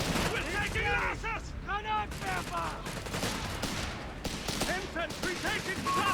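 Bursts of Sturmgewehr assault rifle fire in a Company of Heroes 3 battle, sharp repeated volleys mixed with other distant gunfire and explosions, with a commentator talking over much of it.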